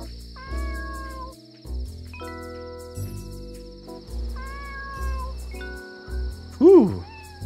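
Cartoonish cat meows from the video game Dave the Diver, several short pitched mews in a row over soft game music with light jingling chimes, ending in one louder, higher meow.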